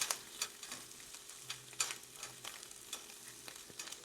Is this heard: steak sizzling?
yes